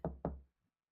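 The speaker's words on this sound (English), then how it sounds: "You knocked." Two firm knocks on a door, close and distinct, a fraction of a second apart, followed by silence.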